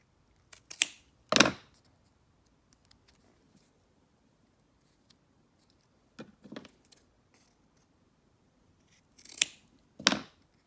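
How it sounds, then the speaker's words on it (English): Scissors trim the plastic sides of toy snowplows made for Trackmaster engines, a few short snipping cuts in clusters separated by quiet pauses, close and alone. "So I'm going to trim some of the sides right over there."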